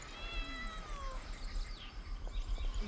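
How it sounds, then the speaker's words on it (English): A small cat meows near a shrine in Genshin Impact, a few drawn-out cries over a soft ambient music bed with faint rumbling background. "Oh, it's just a little cat."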